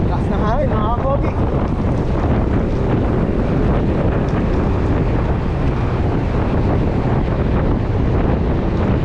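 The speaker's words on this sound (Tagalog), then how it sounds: "Lakas na hangin mga kapogi." Strong wind roars and buffets against the microphone during a morning bike ride on a climbing road in Teresa and Binangonan, Philippines, in a constant, heavy rumble throughout, with a brief voice near the start.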